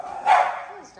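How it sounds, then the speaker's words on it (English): A dog gives a single short bark, close and fairly loud, in an outdoor home setting. "And the dogs know and they still bark at him."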